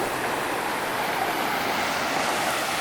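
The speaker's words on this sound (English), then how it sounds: "There's the river right there." Beside a campsite, a river gives off a continuous rushing flow of water, steady and fairly close, with no voices.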